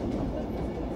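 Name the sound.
model train running at model train show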